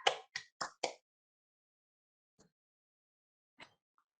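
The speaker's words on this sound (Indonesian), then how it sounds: "Oke, tepuk tangan dulu semua biar makin semangat." Four quick, distinct hand claps close together at the start, followed by near silence and two faint isolated taps, in an Indonesian student classroom.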